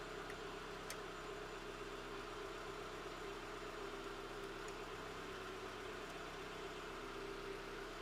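The 1.2 16v engine of a Renault Clio runs at a fast idle, a steady, faint mechanical hum with a constant low drone and no change in pitch throughout.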